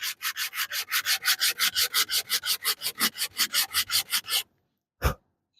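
Sandpaper rubbed back and forth on wood while building a deck box, about twenty close, rhythmic rasping strokes, then silence and one last short scrape.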